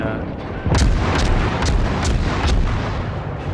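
Warship guns boom in the naval video game World of Warships while a Tier 6 Farragut destroyer fires, with about five loud heavy blasts over a constant roaring rumble of engine and sea.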